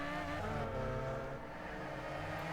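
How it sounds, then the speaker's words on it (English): A racing car engine in a racing video game drones steadily at high revs, slightly over-revving at the Nürburgring, a continuous buzzing whine with layered harmonics and no pauses. "You can hear me over-rev just a little bit there, really pushing, trying my best."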